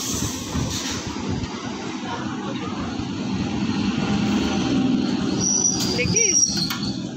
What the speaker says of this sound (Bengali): ট্রেন ঢুকে গেল।